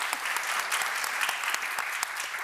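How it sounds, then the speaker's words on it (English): Applause from the audience at an in-conversation event with artist Idris Khan, a moderately quiet, continuous patter of many hands with a few sharper individual claps standing out. "yes, another round of applause."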